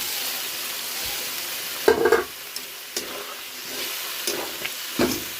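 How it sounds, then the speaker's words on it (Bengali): Fried potato and paneer pieces go into cooked-down masala along with water, bringing a brief loud sizzle and hiss followed by stirring scrapes and softer bubbling, close up with no voices. "এখন দিয়ে দিচ্ছি এই আলু ভাজা আর পনির ভাজাটা দিয়ে দিচ্ছি জল সহকারে"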